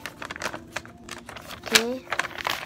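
Paper is folded and creased by hand to make an origami ninja star: close, quick crinkles and soft taps in short bursts, with a person talking softly throughout.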